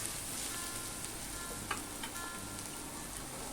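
Onions frying in ghee in a pan for restaurant-style matar paneer, a steady, even sizzle throughout with a few faint clinks, no voices.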